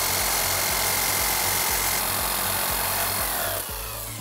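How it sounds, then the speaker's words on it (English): A jigsaw cuts a curved line through a board in a workshop, giving a loud, continuous buzzing rasp with rapid regular stroke pulses and no talking. "And then to cut it out, jigsaw."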